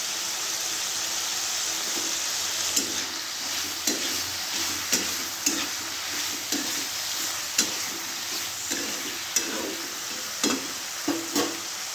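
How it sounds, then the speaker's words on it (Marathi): Shredded cabbage goes into a vegetable curry frying in a pan, a steady sizzle with repeated scraping stirs of a spoon at an uneven rhythm, close and clear. "आता आपण गोबी टाकूया इथे मी पानगोबी घेतलेली आहे"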